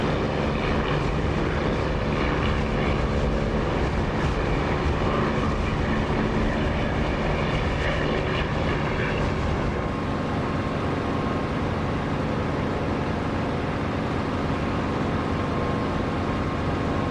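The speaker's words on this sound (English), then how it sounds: "I'm a Mark 9 Spitfire. Assuming the runway's clear, coming in to land from west side." A Mark 9 Spitfire's piston aircraft engine drones loudly and continuously while coming in to land in the DCS flight simulator game, the tone shifting slightly partway through as the engine eases off.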